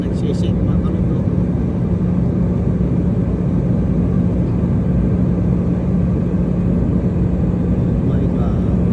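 A steady, loud cabin roar from an airliner descending in flight, with a constant low hum throughout and a voice talking over it.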